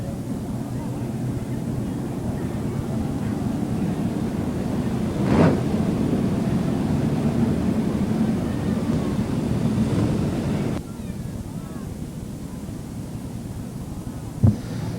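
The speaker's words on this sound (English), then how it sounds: "The rain comes pouring down." Heavy rain pours down at the Newcastle Motordrome during a sprintcar race meeting, a steady dense wash of hiss that holds without a break, with a faint thump near the end.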